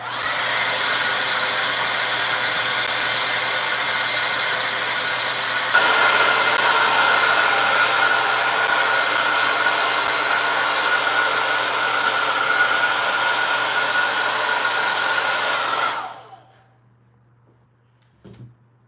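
A hair dryer blowing on acrylic paint, a loud steady motor whir that shifts up in pitch partway through, then switches off and spins down to near silence.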